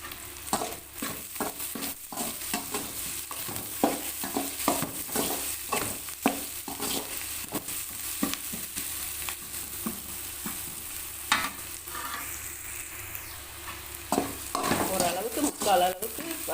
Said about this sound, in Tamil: இப்போ வெங்காயம் நல்லா வதங்கிட்டு